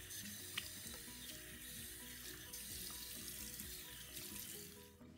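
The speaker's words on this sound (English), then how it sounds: "Use slightly warm water to gently rinse away any remaining sugar granules." Warm water runs from a sink tap while hands are rinsed, a faint, steady trickle and splash with a soft tapering at the end and no talking.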